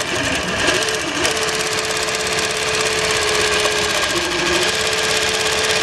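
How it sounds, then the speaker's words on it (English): An AtlasUSA AT20U63 zigzag sewing machine runs a straight stitch with a steady, close motor whir and rapid needle chatter that holds at an even, loud level throughout. "So right now we're doing the straight stitch, you see?"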